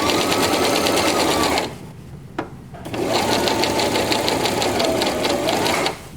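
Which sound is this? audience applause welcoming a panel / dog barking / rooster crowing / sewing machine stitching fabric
sewing machine stitching fabric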